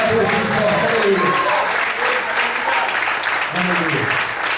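A church congregation applauding in worship, a sustained wash of clapping that carries through the whole stretch, with voices and shouts mixed in underneath.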